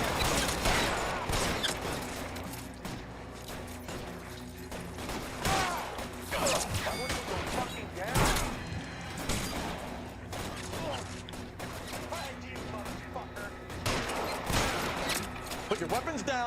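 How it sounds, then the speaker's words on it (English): Machine gun fire in L.A. Noire, rattling bursts and mechanical clatter mixed with impacts during a shootout, moderately loud, with voices shouting over the shooting. "Oh my god, he's got a fucking machine gun."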